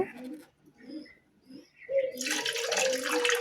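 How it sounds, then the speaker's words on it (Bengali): Water is poured into a cooking pot for making bhapa pitha on a clay stove. It starts as a steady, close splashing gush partway through, after soft cooing or murmuring sounds at the start. "হাঁড়ির মধ্যে পানি দিয়ে দিচ্ছি"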